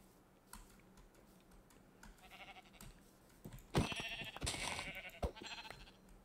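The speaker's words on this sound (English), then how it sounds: "How many sheep spawned here?" Sheep bleat in Minecraft, several short bleats growing louder toward the end, mixed with small clicks and taps.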